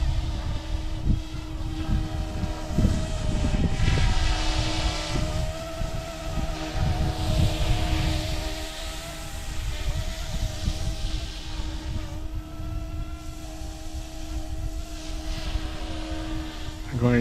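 A YUXIANG F09-S Blackhawk UH60 Coast Guard-style RC helicopter hovers outdoors in a breeze, its steady whining motor and rotor drone heard near and continuous while someone talks over it.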